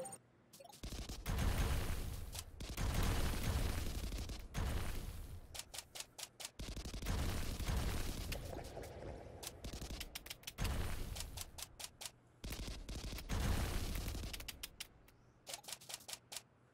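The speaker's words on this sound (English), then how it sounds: "Can I shoot the little blobs on the ground with the SMG?" Rapid SMG fire in the 2D action game Kunai, delivered in several long sustained bursts of fast repeated shots separated by short pauses and stuttering trailing shots, loud and close.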